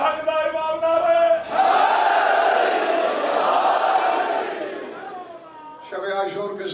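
A majlis crowd on the night of Ashura erupts in loud, sustained chanting of religious slogans, one massed roar of voices lasting several seconds. A lone voice with a musical tone comes before it and after it.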